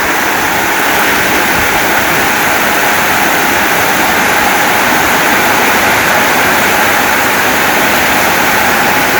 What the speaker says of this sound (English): It's absolutely pouring down the side of the house now.